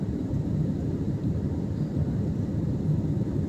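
Airplane in flight over Mumbai, heard as a steady, muffled low roar of engines with no breaks, like cabin noise during cruise.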